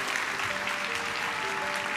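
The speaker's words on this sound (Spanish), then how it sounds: "Un aplauso" Audience applause for an adoptive family on a television show, a dense, continuous wash of clapping filling the room at steady volume, with no voices standing out.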